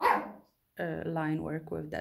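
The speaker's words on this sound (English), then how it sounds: "Apologies for my dog." A dog barks once up close, then a person keeps talking right after at a modest level indoors.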